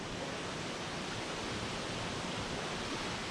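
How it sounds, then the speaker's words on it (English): A forest waterfall in Pisgah National Forest, North Carolina, gives a steady, dense roar of rushing water, constant and even from start to finish with no other sounds. "I don't know how I'm gonna stand under this waterfall"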